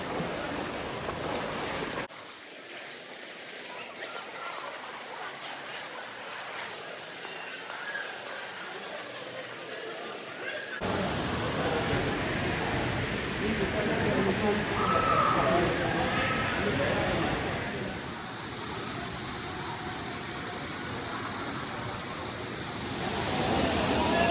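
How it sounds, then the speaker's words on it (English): A waterfall inside a cave in Bali, a steady broadband rush of falling water that swells louder partway through, with voices talking over it. "the waterfall."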